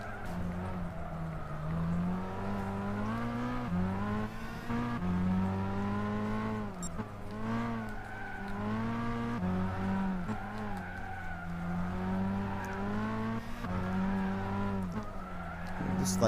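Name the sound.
BMW Vision GT race car engine and tire squeal, Gran Turismo 6 video game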